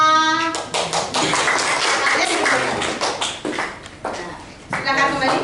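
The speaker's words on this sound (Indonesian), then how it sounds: "Sekali tepuk tangan untuk kelompok A" A classroom group claps briefly after a student group's presentation, a short burst of loud, close hand claps mixed with voices talking over and around it.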